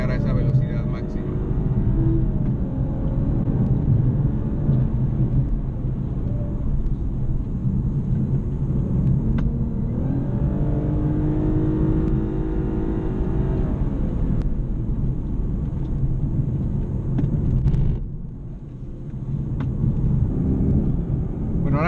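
A 2018 Lexus LC500h hybrid coupe accelerates on the Monteblanco race circuit, its engine note a steady loud drone with rising tones, continuous under wind buffeting with a brief dip near the end.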